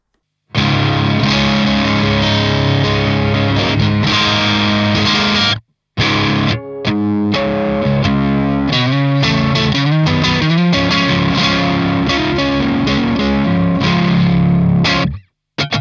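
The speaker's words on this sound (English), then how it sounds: "let's try it one more time with the neck pickup with even less gain" An electric guitar on a Strat-style neck pickup plays loud, warm chords and riffs with light crunchy low-gain overdrive, continuous apart from one brief pause near the middle.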